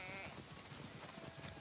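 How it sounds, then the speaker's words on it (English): Sheep bleat in a barn in the video game The Last of Us Part II, with a dense, steady wash of many overlapping bleats from a flock close by. "Listen up, sheep."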